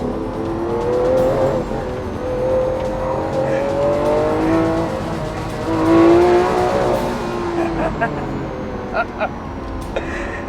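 A 2012 Lamborghini Aventador with a naturally aspirated engine making 691 bhp revs hard under acceleration past 3000 RPM, rising and falling engine howls with gear changes, loud and close, with a voice talking over it.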